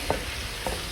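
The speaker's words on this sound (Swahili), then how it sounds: "kukoroga" Boiled meat and pilau spices get stirred in a cooking pot, producing two soft scraping clanks of the spoon against the pot over a steady background sizzle, close and fairly quiet.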